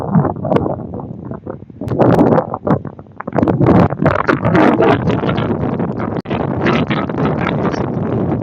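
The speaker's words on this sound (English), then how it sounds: "Too windy out here." Strong gusts of wind buffet the microphone, loud low-frequency rumbling and flapping bursts that rise and fall throughout.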